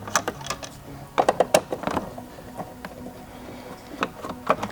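A Phillips head screwdriver backing screws out of a Rainbow E Series vacuum makes quiet, close clicks and short ratcheting scrapes in irregular clusters.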